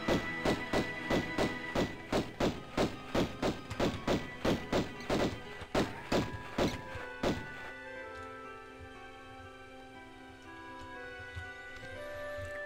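Rapid, evenly spaced heavy gunshots in Tomb Raider 1 Remastered, Palace Midas level, around twenty in a row, then they stop and lingering music carries on alone.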